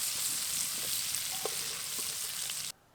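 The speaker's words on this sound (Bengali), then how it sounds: "চিংড়ি মাছ খুব বেশি ভাজবো না, হালকা বাদামি রং ধরে গেছে," Turmeric-coated shrimp fry in a pan with a close, even sizzle and soft crackle before the sound cuts off abruptly.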